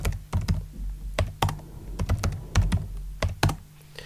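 Password being typed on a computer keyboard, a close, irregular patter of distinct key clicks with short pauses between bursts.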